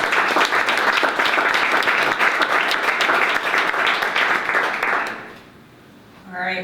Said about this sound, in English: can you please give another round of applause to all of our founders and presenters?